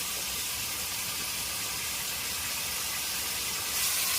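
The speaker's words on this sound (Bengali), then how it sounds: "এবার এই মশলার মধ্যে দিয়ে দিল এই কাঁকড়াগুলো।" Sundarbans crabs dropped into hot oil and spice paste, giving a steady, loud, dense sizzling hiss that holds throughout and swells slightly at the end, with no voices.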